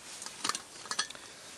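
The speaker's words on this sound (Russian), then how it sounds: "Первое, что у него имеется, это вот такая вот сковородка, которая ставится на самый низ." A stainless steel camping frying pan handled briefly, giving a few light metallic clinks and taps in two quick clusters, close and fairly quiet.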